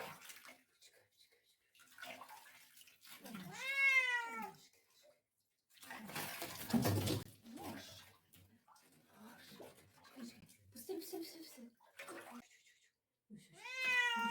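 Cats yowl and meow loudly while being bathed and rinsed, long wailing cries rising and falling between splashes of running water, with a person talking in between.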